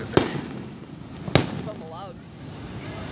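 July 4th fireworks burst in two sharp, loud booms about a second apart, and people talk in between and after the bursts.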